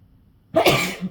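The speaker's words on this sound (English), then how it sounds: "I had to sneeze there." A single sharp, loud sneeze bursts out after a moment of near silence.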